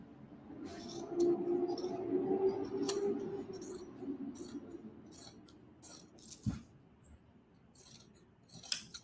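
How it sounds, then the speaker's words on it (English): Scissors snip down a flat fell seam on a garment during upcycling, producing a series of soft, close crisp cuts and clicks with faint fabric rustle, with no talking. "I'm going to cut down the flat fell seam, leaving the belt loop here."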